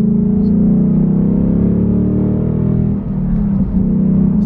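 A 2021–22 Ford Mustang Mach 1 with a Corsa double X-pipe and factory exhaust cruises toward fast sweeping turns, its deep steady V8 drone loud and close from inside, with a brief dip in the note near the end.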